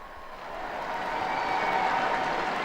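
Crowd gathered in Saint Peter's Square cheering and applauding as Pope Francis appears at the window, a broad, steady roar of many distant voices and clapping that swells in the first half-second and then holds loud and even.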